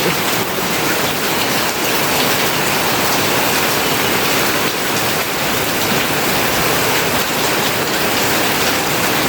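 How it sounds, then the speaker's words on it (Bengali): Steady rain pours down close by onto a veranda, a dense, even hiss that holds unbroken from start to finish with no voices. "অনেক ভালো লাগতেছে বৃষ্টি, অনেক ভালো লাগতেছে।"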